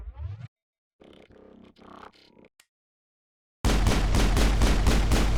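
Pistol fire in combat in the video game Mass Effect 1, short clipped game sounds and a pause, then a loud rapid burst of shots in steady rhythm filling the last seconds.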